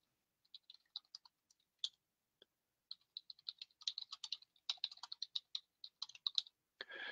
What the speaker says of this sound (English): So I'll type that in there.